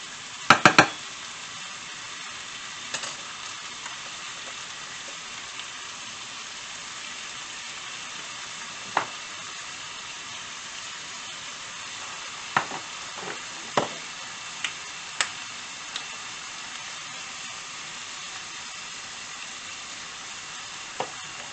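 Sliced beef for a Philly cheesesteak sizzles steadily in a hot pan, a continuous even hiss with a few sharp clicks and scrapes of utensils, no voices.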